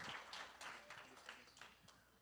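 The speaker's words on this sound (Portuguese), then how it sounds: "Dê um aplauso ao Senhor forte" A church congregation breaks into applause, a dense, fairly faint patter of many hands clapping at once, with voices mixed in under it.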